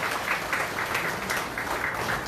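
A Liberty Korea Party provincial inauguration and appointment ceremony audience claps in a steady, moderately loud burst of applause with rhythmic swells, no talk over it.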